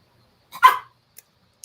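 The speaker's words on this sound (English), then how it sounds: "Oop, I hear a doggy." A single sharp dog bark, fairly close, followed by quiet.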